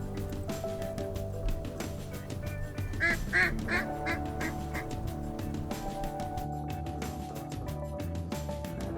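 Ducks at a Utah waterfowl hunting area against a mountain backdrop give a run of five or six clear, fairly close quacks midway, over a constant outdoor hiss and low rumble.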